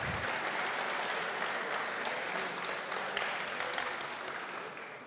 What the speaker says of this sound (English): give yourself a great big round of applause